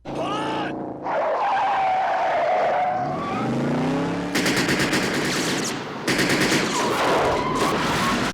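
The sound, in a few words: car chase scene from the film Cobra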